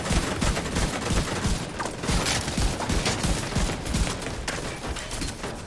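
Dense, continuous automatic gunfire from machine guns in The Division 2, rapid close bursts overlapping into a loud, chaotic fusillade without pause.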